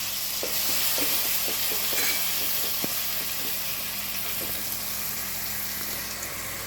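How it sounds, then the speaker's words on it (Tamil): Shallots for raw baby jackfruit biryani fry in hot oil with a steady, even sizzle, while light spoon taps and stirring clicks come through close up during the first half. "இப்போ இந்த சின்ன வெங்காயமும் அதே மாதிரி ப்ரௌனாக வறுபடணும் அது வரைக்கும் நல்லா வதக்குங்க"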